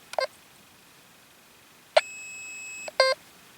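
Detech EDS Reacher metal detector in pinpoint mode giving a short beep, then a sustained steady tone for about a second, followed by another brief beep; clear and alone against a quiet background.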